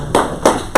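Three quick, loud hand claps ring out close by at the end of a business talk.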